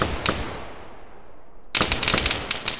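Gunfire in the military shooter Arma 3 during a tournament match: a single distant shot echoing away, then a rapid burst of automatic fire crackling loudly near the end.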